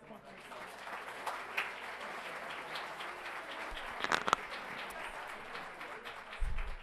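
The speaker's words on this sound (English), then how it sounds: "Thank you for the applause for Red Mountain Ranch Elementary School" Sustained applause from a school governing board meeting audience honoring Red Mountain Ranch Elementary School, steady crowd clapping throughout with a few sharper claps near the end.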